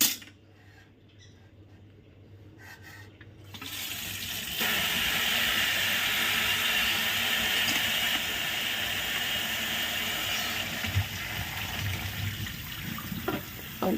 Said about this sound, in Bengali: দাঁড়াও আগে ঠান্ডা জলটা ঢেলে নিই।